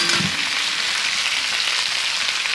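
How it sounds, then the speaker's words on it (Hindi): Ivy gourd (kundru) fries in a pan while being stirred, a loud, continuous close-up sizzle with a brief scrape of the spoon at the start. "इसी तरह से चलाते हुए हम इसे अच्छी तरह से भून लेंगे।"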